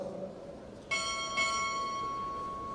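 Two clear strikes of a ship's bell mark a chief's arrival at a Navy Recruit Training Command Chief Petty Officer pinning ceremony; the pair of clangs rings out close and clean, then decays with a long shimmering tail.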